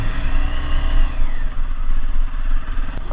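Hero Xpulse 200 motorcycle loaded with heavy luggage, pulling away and accelerating close to the rider, with a loud rising engine note and some clatter, followed by steadier running through traffic.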